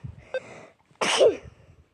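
A single sharp sneeze bursts out close and loud after a brief quiet catch of breath, then trails off into a soft exhale.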